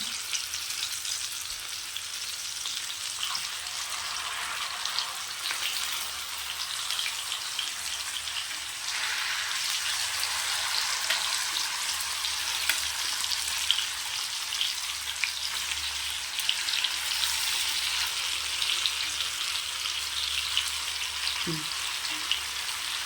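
Fish frying in groundnut oil, with the oil bubbling up: a dense, even crackling sizzle like light rain, steady and close for the whole stretch, ending with a small knock of a utensil.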